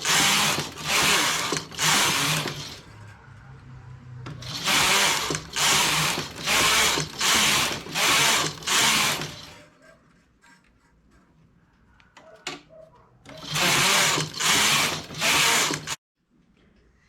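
A knitting machine carriage drawn back and forth across the needle bed knitting rows of a raglan piece, a loud rhythmic series of rasping mechanical passes in bursts, with pauses and faint clicks between.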